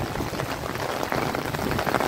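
Steady rain patters close by on an umbrella overhead, a continuous dense hiss with scattered drop hits that grows slightly louder toward the end.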